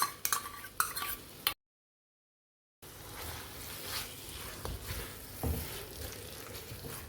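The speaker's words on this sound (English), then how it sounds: "Mix it quickly and cook this till the oil starts separating again." Soya chunk and potato curry being stirred in a pan after beaten curd is mixed in, with soft scraping and a light sizzle, a short silent gap, then continued gentle stirring and frying.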